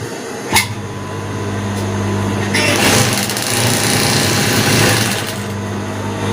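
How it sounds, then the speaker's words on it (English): A sewing machine stitches a half-inch side seam in fabric, a steady close whirring hum that swells into a louder rapid run in the middle and then settles, with a sharp click near the start. "I'll sew from the side using 1/2 inch seam allowance, then I'll sew to like 6 inches."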